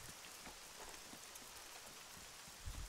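Steady rain pours through the Arma 3 Breaking Point game world, a dense continuous hiss of drops on surfaces with a brief low thump near the end.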